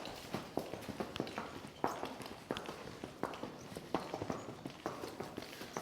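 Hooves of a young horse named Boots, worked in hand during a first groundwork lesson, strike the ground in a steady, rhythmic walking stride, fairly soft and slightly distant, with no talking over them.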